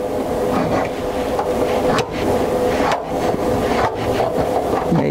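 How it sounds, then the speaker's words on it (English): A knife scores crisscross cuts into a painted test sample for a tape adhesion test, giving continuous close, loud rasping, rubbing strokes with brief breaks near two and three seconds and no talk. "You take the painted sample and you do a crisscross with a knife."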